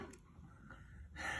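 Heavy, gasping breaths from a person who has just eaten an extremely hot chocolate bar, a few short ragged inhales and exhales heard up close.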